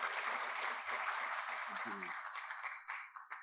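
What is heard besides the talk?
audience applause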